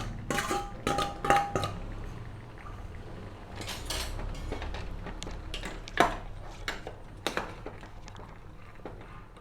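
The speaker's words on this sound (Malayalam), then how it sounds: "ആ തേങ്ങയും കൂടെ ചേർത്ത് ഇളക്കുകയാണ്." Crushed coconut being stirred into mango pachadi in a pot, with a spoon scraping and clinking against the metal in irregular bursts, some sharper knocks standing out, heard up close with no talking.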